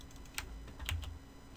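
Keyboard shortcut keys tapped on a computer keyboard while working in Photoshop, a few quick separate clicks, close and fairly quiet, with no talking.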